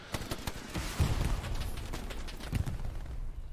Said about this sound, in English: The amount of close combat explosions is quite worrying.